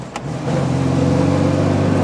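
An MGB's 1.8-litre all-iron B-series four-cylinder engine pulls as the car accelerates, rising after a brief dip into a steady, close, loud engine drone that fills the rest of the moment.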